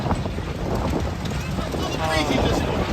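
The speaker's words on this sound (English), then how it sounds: "Oh, it's so windy." Steady wind buffets a microphone outdoors at Magic Kingdom, a continuous broadband rumble and roar that covers everything else for the whole stretch.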